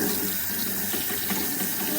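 Tap water runs steadily from a kitchen faucet into a sink while an apple is rinsed under the stream, a continuous close splashing rush with no talk.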